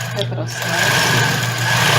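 Sewing machine backstitching, a close, steady motor hum with rapid stitching, running on under someone speaking Portuguese.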